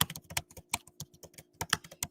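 Rapid close-up typing on a computer keyboard, a quick irregular run of crisp key clicks with no talking.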